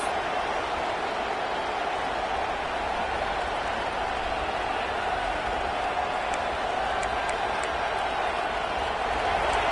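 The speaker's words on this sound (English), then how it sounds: "this crowd coming to life here, trying to help the defense get a stop with the offense pinned back" A football stadium crowd roars as the defense tries to get a stop with the offense pinned at its own goal line; a steady, dense wash of cheering noise holds at even loudness throughout, with no clear single voices.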